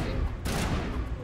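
Gunfire rattles in Mass Effect Legendary Edition, a brief dense burst of rapid shots that swells sharply midway, with a voice speaking underneath.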